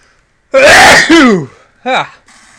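A loud, close sneeze erupts with a sharp intake and explosive release, followed by a smaller vocal sound.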